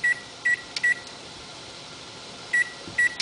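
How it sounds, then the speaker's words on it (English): A kitchen timer being set while hops boil for a homebrewed beet braggot beer: short, clear electronic beeps come in scattered pairs and singles, separated by quiet gaps over a low steady room hum. "I'm going to just set the timer for 5 minutes here."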